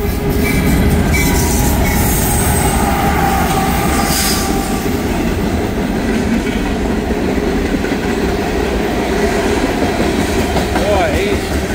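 Freight train of boxcars rolling past close by at speed, a loud continuous roar and rumble of wheels on rail, with faint squealing and clatter throughout.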